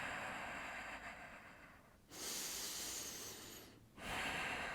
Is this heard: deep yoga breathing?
yes